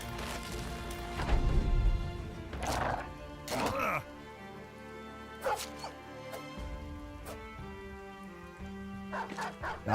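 A dog barks several times in short, sharp bursts in the video game Battle Brothers, mixed with clashing combat effects and someone talking over the game.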